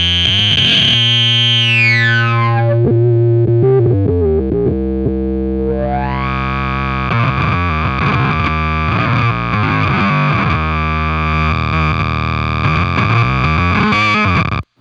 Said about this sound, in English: we're applying the filter to the octave signal and not the distortion signal.